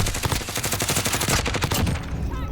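GRAU 5.56 assault rifle in Modern Warfare firing a long rapid automatic burst, loud, close and evenly rhythmic before cutting off, with no talking.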